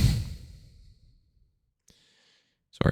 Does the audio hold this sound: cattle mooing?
no